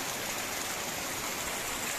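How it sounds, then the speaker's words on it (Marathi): Heavy monsoon rain pours steadily in front of a village house, a dense, continuous hiss of water with no breaks, loud and close throughout. "हे बघा अतिशय मुसळधार पाऊस अगदी आमच्या माझ्या घरासमोर हे दिसतंय तुम्हाला चित्र."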